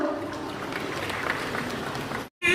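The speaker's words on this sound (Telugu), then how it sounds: "మేడం నేహా గారిని సాధారణంగా వేదికపైకి ఆహ్వానిద్దాం గట్టిగా చప్పట్లతో" Audience at an award function clapping to welcome a guest onto the stage: a steady, dense burst of applause that cuts out briefly, followed by a voice starting to speak.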